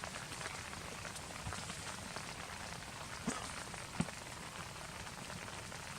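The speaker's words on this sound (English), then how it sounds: "the rain has picked up" Rain falls on an alpine lake in a soft, even patter, fairly faint and constant, with a couple of sharper drops or taps standing out near the middle.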